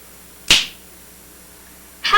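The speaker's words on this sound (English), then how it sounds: "Now I'll do it just by snapping my fingers." Two crisp finger snaps, the first sharp and clear near the start, the second about a second and a half later, close and distinct against a quiet background.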